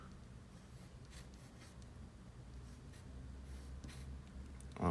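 A pencil sketches on paper, giving soft, scratchy strokes in short bursts near the microphone over a low background hiss.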